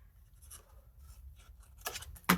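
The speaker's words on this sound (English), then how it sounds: "I'm going to trim this a little bit shorter" Scissors trimming a small paper scrap: a few faint snips, then two sharper, louder cuts near the end against a quiet room.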